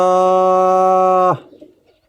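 A pigeon sitting on eggs gives a single loud, sustained, low resonant coo-like call that holds steady for over a second, then cuts off sharply, leaving faint background noise.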